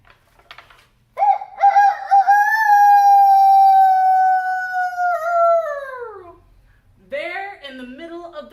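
A long, drawn-out rooster-like crow lasting several seconds, probably a voice imitating it, followed by a short vocal sound.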